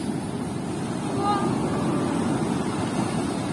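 Stormy sea surf on a Turkish beach, with water washing up to the sun loungers: a steady, loud broadband roar of churning waves and wind, continuous throughout without distinct breaks.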